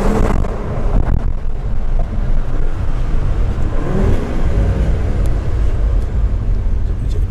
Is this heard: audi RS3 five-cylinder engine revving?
yes